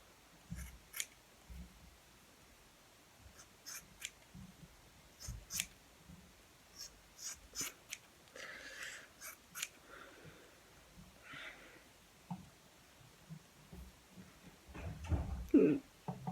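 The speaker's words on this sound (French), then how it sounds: "Voilà, je coupe mes cheveux." Scissors cutting a person's own hair, a string of quiet, crisp snips spaced irregularly, close up in a hushed room with faint rustling between cuts.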